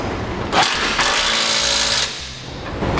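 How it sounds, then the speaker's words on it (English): A power tool tightening a bolt of a B&W fifth wheel trailer hitch on the frame of a 2002 Dodge Ram pickup. It gives a loud, steady, rattling mechanical whir in close bursts, then a quieter tail. "Then we'll tighten down the front bolt."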